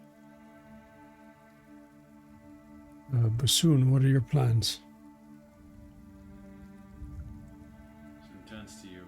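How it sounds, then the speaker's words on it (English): Soft rain falls outside as a faint, steady patter beneath a sustained musical drone, with someone briefly speaking over it midway. "A soft rain can be heard outside."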